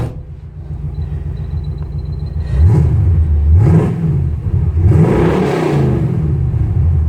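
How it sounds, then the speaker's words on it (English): A muscle truck engine, a Roadkill Muscle Truck clone, idles, then revs up loudly in two or three strong throttle blips, heard up close from inside the cab with a steady rumbling drone between the revs. "I'll even rev it up in the truck so you can hear what it is inside."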